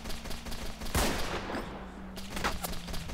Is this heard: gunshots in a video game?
yes